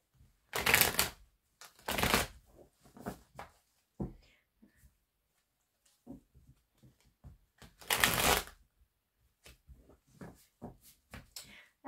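Oracle cards being shuffled for a tarot-style reading, heard as several bursts of rapid riffling papery flutter separated by quieter soft card taps and handling sounds, close and alone with no talk.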